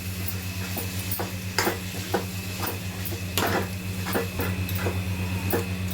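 A spoon scraping and stirring mashed potato pieces with spices in a pan, giving a steady series of short scrapes over a low background hum and soft sizzle.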